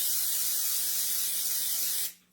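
Olive oil cooking spray sprayed into a pan, one close, steady hiss lasting about two seconds before cutting off abruptly.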